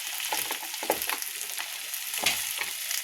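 Potatoes with salt fry in a pan with a steady close sizzle, while occasional scraping stirs cut through it.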